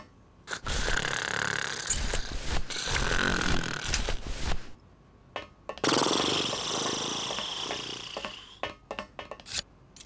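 A character in the Grim Fandango video game snores in two long, rasping, rattling breaths separated by a pause, with brief clicks and snorts in between, alone and close.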